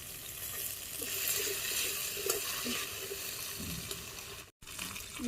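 Taro being sautéed with salt in a pan over a clay stove gives a steady, soft sizzle with faint scraping stirs, continuing unbroken apart from one brief cut near the end.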